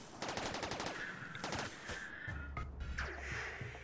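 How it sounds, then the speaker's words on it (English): Autocannon turrets fire in RimWorld, a fast rapid-fire rattle of shots in quick bursts, steady and close, with a low rumble joining partway through. "use the autocannon turrets"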